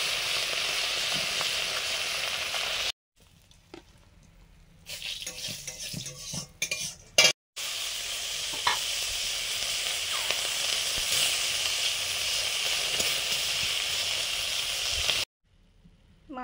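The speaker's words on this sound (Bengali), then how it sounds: "মাছগুলো ভাজা শুরু করেছি" Fish seasoned with salt, turmeric and chili powder sizzles in a pan, a steady close hiss broken by spatula scraping and utensil clinks, with a few brief gaps in the frying sound.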